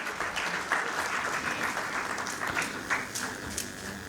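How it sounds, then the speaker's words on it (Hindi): Moderate applause from a crowd, a steady patter of many hands clapping at a medium distance. "तालियों के गड़गड़ाहट के साथ स्वागत करें।"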